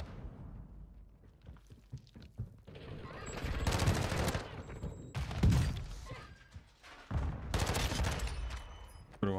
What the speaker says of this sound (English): I'm just gonna wait for the mortar strike to go